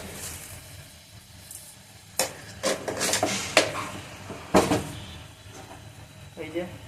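Fish dropped into boiling curry gravy, giving a soft sizzle and bubbling with a few sharp clatters and splashes as pieces go in, fairly quiet, with a voice speaking faintly beneath.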